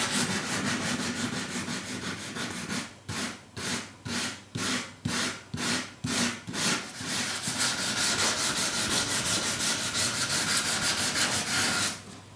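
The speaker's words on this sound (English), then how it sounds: "I'm just going to go to a piece of sandpaper on a little sanding block" Wood binding is hand sanded with sandpaper on a small sanding block, heard as close rhythmic back-and-forth scratchy strokes, then a faster continuous rubbing that stops abruptly near the end.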